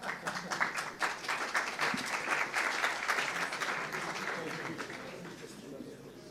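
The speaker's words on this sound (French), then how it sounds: "Applaudissements." Audience applause at a colloquium, sustained dense clapping from a room full of people that holds steady, then slowly tapers off toward the end.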